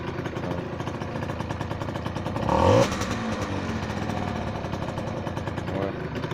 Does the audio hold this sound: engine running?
yes